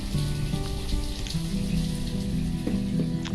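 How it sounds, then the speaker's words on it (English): Steady rain patters continuously in the Banished game, a soft even hiss of drops with faint tonal game music underneath and no voices. "And there's the rain again."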